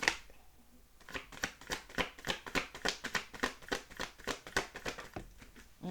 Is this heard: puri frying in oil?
no